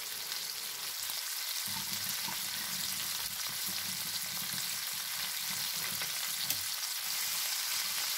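Shrimp sizzling steadily in a hot pan for acarajé, with a continuous bright frying hiss and occasional low scraping stir sounds underneath, close and fairly loud, no voices.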